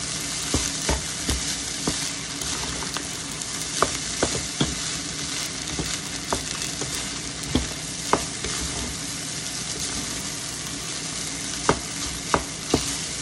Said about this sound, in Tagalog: Haluin ko lang po.